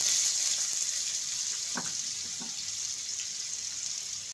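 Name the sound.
potato pieces frying in hot mustard oil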